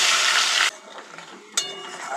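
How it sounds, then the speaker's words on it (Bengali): Crushed garlic and green chillies drop into hot oil for a spice tempering, setting off a loud, dense sizzle that cuts out abruptly, followed by quieter pan scraping and a second burst of frying. "রসুন থেতো করে নিয়ে নিয়েছি আর কিছুটা কাঁচা লঙ্কা এটা ফোড়নে দিয়ে দেবো"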